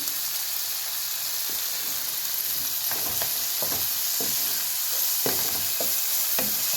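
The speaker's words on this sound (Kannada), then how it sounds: "ಫ್ರೈ ಆಗಿದೆ ನೋಡಿ ನೀಟಾಗಿ ಫ್ರೈ ಆಯಿತು" Turmeric frying in hot oil in a pan while making vermicelli upma, an even sizzling hiss with scattered soft scrapes of a spoon stirring, close up and steady, no speech.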